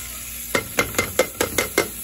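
Calabresa sausage pieces go into a pan and are stirred, giving a quick run of seven evenly spaced scraping clinks over a low background sizzle, close and alone.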